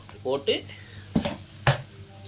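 Ground paste of three medium onions drops into a hot pan for quail pepper fry and sizzles, with a couple of sharp stirring clatters over a steady frying hiss, close.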